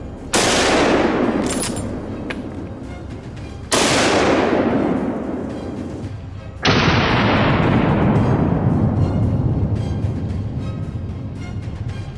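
Three loud, sharp gunshots ring out during a wild boar hunt in the open, spaced a few seconds apart, each one cracking sharply and then echoing away in a long rolling decay.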